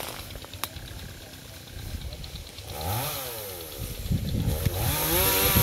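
A chainsaw cuts into a very large golden wattle tree, the engine revving and bogging in rising and falling sweeps, loud and close, with someone speaking briefly early on.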